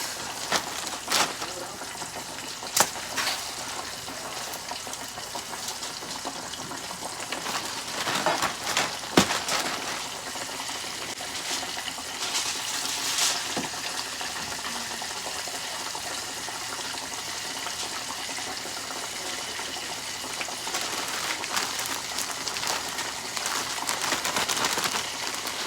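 Pork chops coated in seasoned flour fry in a covered pan with a steady, loud crackling sizzle, dotted with sharper pops throughout.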